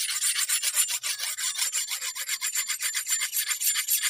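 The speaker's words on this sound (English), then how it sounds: "as soon as I start hitting this hard with this hone, I'm going to start burnishing that up" A steel hone scrapes repeatedly across the flat of a satin-finished blade, a close, rough rasping in quick, regular strokes with no voices.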